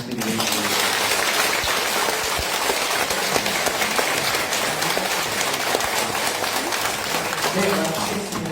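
A congregation applauds altar servers at an Easter Sunday Mass, with sustained broadband clapping filling the church and talk at the start and end.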